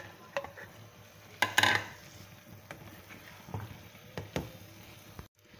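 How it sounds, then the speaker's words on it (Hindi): A spoon stirring masala as it fries in a pan for Bombay biryani: scattered scraping clicks and a few sharper knocks against the pan over a faint low sizzle, close and fairly quiet. "अब हम इसको बहुत अच्छी तरह से चम्मच चला चला कर भूलेंगे हल्का हल्का पानी डालकर"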